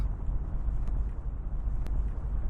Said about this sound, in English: It's a small boat in the middle of a storm.